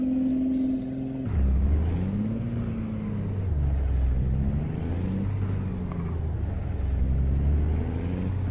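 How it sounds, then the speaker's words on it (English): Air brake hiss and whir from a truck releasing its parking brake in a modded trucking simulator game, a loud hiss cutting off into a low steady engine rumble with a faint high whine. "Turn the parking brake off."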